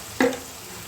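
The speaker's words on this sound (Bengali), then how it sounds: "দিয়ে মশলাটা ভালো করে কষে নিচ্ছি।" A single short sizzle as spice paste with tomato hits a hot pan and is stir-fried, one brief burst standing out against a quiet kitchen background.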